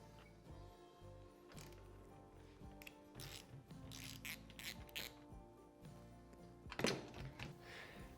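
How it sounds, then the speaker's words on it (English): Windshield mount bolts being tightened on a Honda Talon 1000X-4 UTV, quiet ratchet clicks and metallic tool clunks in irregular bursts, with a sharper knock near the end, close and faint. "I'll go back through, tighten those 6 bolts on the bottom"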